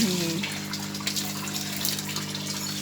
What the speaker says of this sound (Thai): มารดน้ำต้นไม้ด้วยน้ำสาวข้าวค่ะ